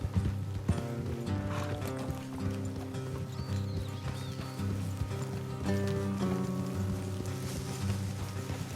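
Horses trotting in Red Dead Redemption 2, steady hoof clip-clops under a continuous musical score, moderately faint.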